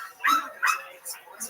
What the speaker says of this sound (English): Perfect timing for the dog sound effects after the HEB announcement